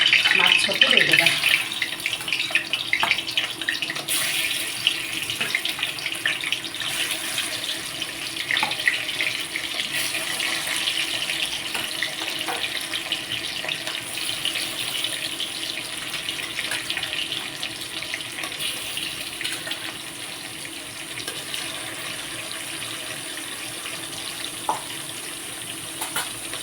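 Fish frying in hot mustard oil for Odia macha besara makes a steady close hiss and crackle that runs throughout, while a voice talks at times.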